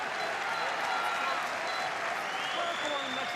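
Argentina fans applauding and cheering at a men's field hockey World Cup match in The Hague, a lively burst of clapping and crowd noise from a stadium while a commentator talks over it.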